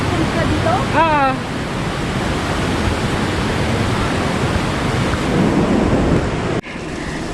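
Rushing river water in Ausable Chasm, a broad, steady roar of whitewater close by that fills the whole clip, with a brief voice near the start and a sudden dip near the end.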